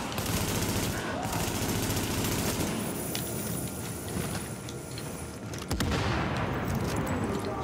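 Gunfire in The Division shooter game, a dense run of rapid shots and clattering impacts, loud and sustained with brief breaks.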